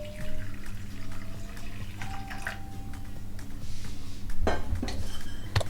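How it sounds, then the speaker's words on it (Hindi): Water pours steadily into a bowl while making chole, with occasional clinks of metal and dishes nearby. No one speaks. "तो मैं पानी डाल रही हूँ।"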